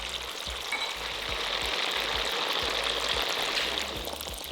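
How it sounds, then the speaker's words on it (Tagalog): Tofu deep-frying in hot oil, a steady dense sizzle and crackle with soft low bubbling pops running throughout, close and continuous, no voices. "Yan, i-deep fry ko lang itong tokwa. At lulutuin ko lang ito hanggang sa mag-golden brown na."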